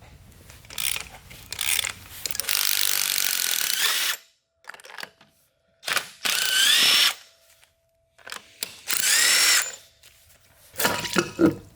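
Power tools and ratchets working on an LS1 engine while its cylinder head is removed, loud whirring bursts that start and stop at uneven intervals, with quiet gaps and clicking between them.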